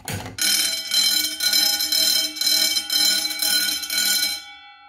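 A Wheelock fire alarm bell rings loudly and continuously after a pull station is activated in a small gym, with a fast metallic clatter pulsing in short bursts before cutting off.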